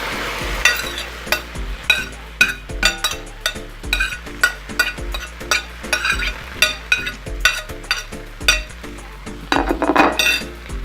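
Portobello mushrooms sizzling in a hot pan, with a steady fry under frequent close clinks and scrapes of a utensil against the pan in an uneven rhythm.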